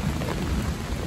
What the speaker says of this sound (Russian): Ливень идет стеной